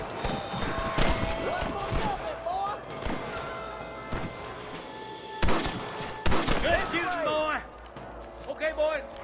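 Gunfire from bandits in the video game Red Dead Redemption, with repeated sharp shots and volleys spread across the clip, some in dense bursts, loud and close amid game effects.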